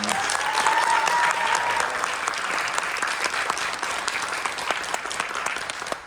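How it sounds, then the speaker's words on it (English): A dense wash of applause fills the room for a panel at an event about Black Peace Corps journeys, steady and sustained, with many hands clapping together and a faint voice briefly audible underneath. "Please give them a round of applause."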